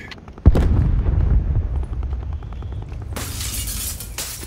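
In Call of Duty Black Ops 4 Blackout, a sharp, loud gunshot blast rings out near the start, followed by a rumbling tail and later a burst of bright, crackling gunfire.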